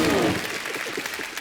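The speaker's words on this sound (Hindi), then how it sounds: "एक बार जोरदार तालियां हो जाए आदित्य के लिए।" A studio audience on a comedy show claps together in a brief, dense burst that fades slightly toward the end.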